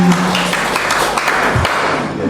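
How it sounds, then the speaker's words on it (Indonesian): Congregation claps at a Javanese church's 43rd anniversary celebration after candles are blown out, a short, loud burst of dense applause with a music chord underneath. "Ya, tepuk tangan."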